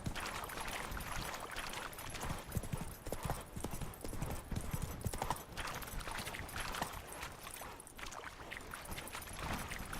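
A horse galloping in The Witcher 3: The Wild Hunt, with quick, steady hoofbeats throughout over faint background game noise, at fairly low volume.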